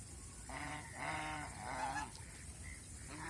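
Large male geese, each over five kilograms, honk at a goose farm, giving about four loud, nasal calls in quick succession close by, with no talking.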